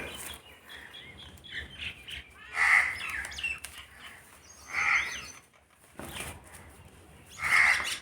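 Pigeons kept by a fancier coo and call in short bursts at close range, with fluttering and rustling between calls.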